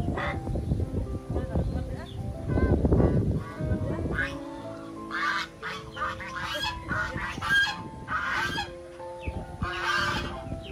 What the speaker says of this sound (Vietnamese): Bắt được con vịt cũng khó khăn lắm các bác ạ, bởi vì nó nuôi rông chạy kinh lắm rồi.